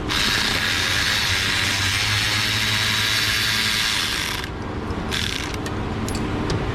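Ratchet working on a bracket bolt on an engine, a steady close mechanical clicking and whirring that runs for several seconds, then breaks off into a few scattered clicks.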